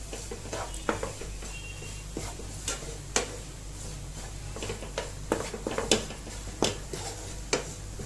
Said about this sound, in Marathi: गॅस सिमवर करून थोडंसं भाजून घेते आता हे ओलं खोबरं जास्त नाही भाजायचं